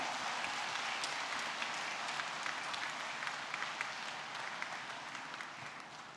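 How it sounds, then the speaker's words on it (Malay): Delegates at the UMNO general assembly give the women's wing a round of applause, a fairly faint but continuous patter of many hands clapping that slowly tapers off. "marilah kita beri tepukan penghargaan kepada semua wanita UMNO"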